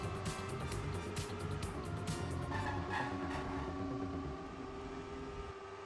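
Steady engine drone from many cars racing together in a video game, a continuous mid-level hum with faint whining tones throughout and no clear passes.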